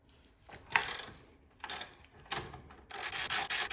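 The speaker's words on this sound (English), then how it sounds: "Undo the top bolt first." Caliper bolts on a Ducati Streetfighter V4 are undone with a ratchet: a few short, close clicking ratchet bursts separated by brief pauses, the last one longer.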